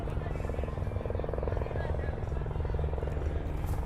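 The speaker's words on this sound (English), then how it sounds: "Local sheriff's helicopter overhead," A local sheriff's helicopter flies overhead near a cricket ground, with a loud, steady rotor thump and whine throughout and voices talking beneath it.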